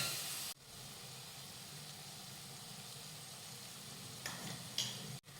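Ginger garlic paste frying with onions in a pan while making Khandeshi shev bhaji, a steady soft sizzle and hiss running throughout, with a few faint stirring scrapes near the end.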